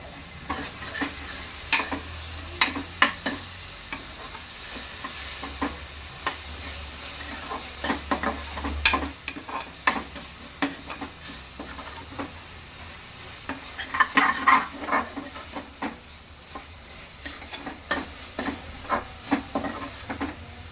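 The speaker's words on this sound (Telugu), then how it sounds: "ఒక 10 మినిట్స్ అలా వేయించుకుంటే కొంచెం బ్రౌన్ కలర్ వస్తుంది కదా" Chopped tomatoes with a little turmeric fry in a pan for an egg curry, giving a steady sizzle broken by frequent scraping taps of the stirring spoon, with no talk.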